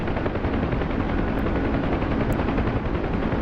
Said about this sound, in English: We're in the UH-1 Hotel Huey